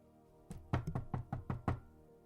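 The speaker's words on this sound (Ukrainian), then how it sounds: "Ой, хтось до нас стукає." Knocking on a door comes as a quick series of about six or seven sharp raps, fairly close and evenly paced, with silence around them.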